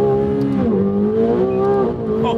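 A 2024 McLaren 750S in sport mode pulls hard at full throttle on a road, its engine note loud and close, climbing steadily with a brief dip as it shifts before rising again.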